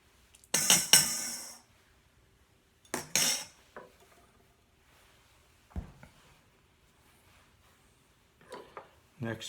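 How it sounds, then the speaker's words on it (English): A spoon scraping and scooping seeds from a halved melon gives a few separate bursts of scraping and clinking, with quiet gaps between them and no talk. "Next step is to scoop out the seeds."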